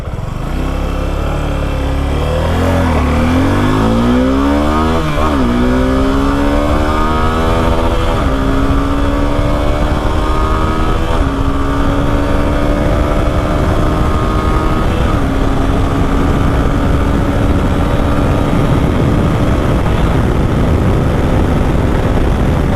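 A Suzuki V-Strom 250 SX motorcycle engine starts and runs loud and close, revving up through a series of rising pitches as it shifts through gears, with steady rumble throughout.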